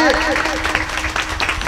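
A kirtan audience claps loudly in a steady, dense patter, with a voice talking over the clapping throughout.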